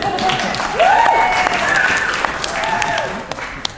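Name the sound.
wedding guests applauding the bartenders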